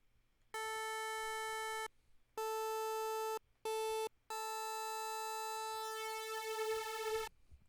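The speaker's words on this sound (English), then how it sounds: "You always want to detune your saws because if you don't, it sounds like this." A bright, buzzy Sylenth synth playing saw waves plays a few plain, undetuned notes: short bursts then one long held note, thin and static, with nothing else underneath.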